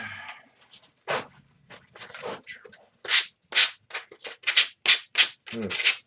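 Sandpaper rubbing against resin on a lathe makes a series of short, bright scratchy strokes, intermittent at first and then faster and more regular, close and fairly loud with brief gaps between passes.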